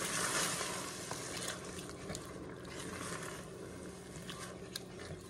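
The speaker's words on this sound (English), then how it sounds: "Tomato sauce time. Stir that up as well." Tomato sauce being stirred into ground turkey chili in a pot, a soft continuous wet sizzle and churning texture at steady level, with no talking.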